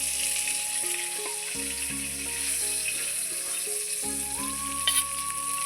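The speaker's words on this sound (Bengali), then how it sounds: "এই যে দেখেন লাল লাল করে মাছ ভাজা হয়ে গেছে এবার আমি তুলে নিচ্ছি" Fish frying in mustard oil in a kadai, a loud steady sizzle under tonal music, with the browned pieces being lifted out of the pan.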